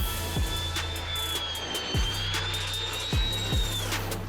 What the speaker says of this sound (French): Regardez cet avion en action contre les incendies de forêt.